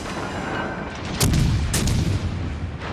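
Heavy naval gunfire from the cruiser München in World of Warships Legends: a steady battle rumble broken by two loud, booming salvos about half a second apart, each followed by a rolling low roar.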